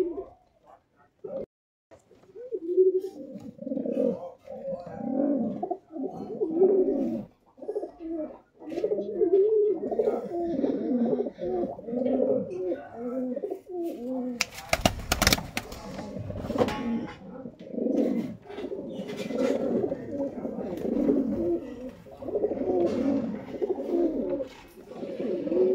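High-flying pigeons coo in a steady, throaty chorus that runs throughout, with a brief burst of rustling noise near the middle.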